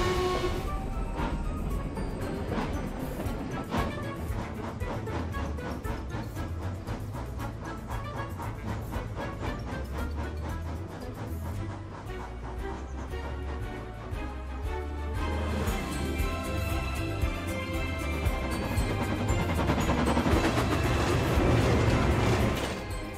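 A train rolls steadily along the rails with rhythmic clattering and mechanical rumble, growing louder and fuller toward the end, no talking, in a cartoon.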